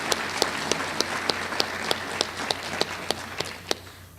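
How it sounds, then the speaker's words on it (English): Sparse, faint clapping for presenters at the closing session of a summit: about a dozen sharp, evenly spaced claps in a steady rhythm, sounding like only a few hands rather than a full crowd, with low room hum beneath. "Let's give all of our presenters a round of applause."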